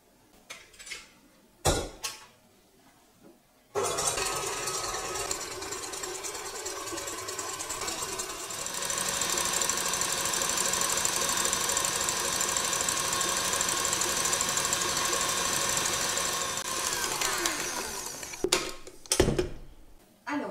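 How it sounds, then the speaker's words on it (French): An electric mixer beats egg whites with caster sugar for a pavlova, a steady loud whirring motor drone running for about fifteen seconds after quiet handling noises, then stopping with a few clatters. "on va déjà commencer par mélanger les blancs d'œufs avec le sucre semoule qu'on va ajouter en 2 ou 3 fois"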